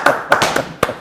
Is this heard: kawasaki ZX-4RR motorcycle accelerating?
no